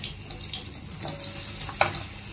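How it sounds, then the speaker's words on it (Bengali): Fish frying in hot oil in a pan: a steady, fairly quiet close sizzle with scattered pops and one sharper crackle near the end, with no voices. "এই মাছটা ভাজতে এত ভয় লাগে বাবা, পট করে"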